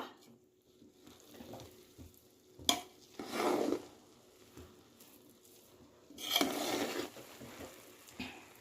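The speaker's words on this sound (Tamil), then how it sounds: "நம்ம இந்த தம்மு கொடுக்குற சாப்பாடை மிக்ஸ் பண்ணலாம்" Chicken dum biryani is mixed in a pot, with scattered scrapes, clinks and a few louder bursts of rustling as the rice is turned, faint between strokes and without talk.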